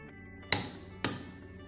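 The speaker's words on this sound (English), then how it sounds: "When the set torque is reached, the wrench typically emits a loud, audible click." An adjustable Mountz click torque wrench reaching its set torque, two sharp metallic clicks about half a second apart, close and crisp over a quiet background.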